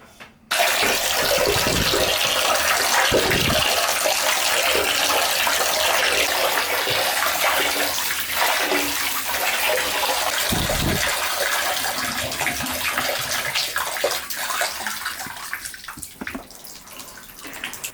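Water gushes from a tap into a bathtub over window blinds being washed, a loud, steady, close rush that lasts nearly the whole time before thinning slightly toward the end.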